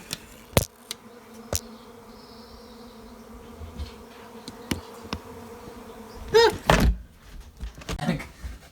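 Wasps buzzing outside a window, a faint steady drone running throughout, broken by a few sharp knocks and a louder bumping, rustling burst near the end.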